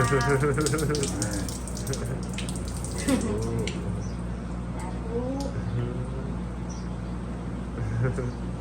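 Water is poured over hands at a Thai elder-blessing ceremony in a steady trickle and splash, heard close under ongoing talking voices.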